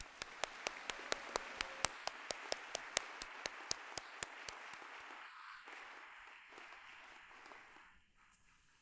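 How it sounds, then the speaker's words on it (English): Scattered audience clapping at a university pharmacy pinning ceremony, sharp individual claps in a steady rhythm that fade out over several seconds in a large, quiet hall. "Please give them a round of applause."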